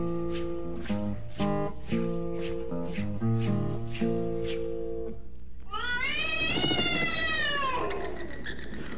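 A cat meows in a long, drawn-out wail after a tinkling musical passage, loud and close, with a softer meow trailing off.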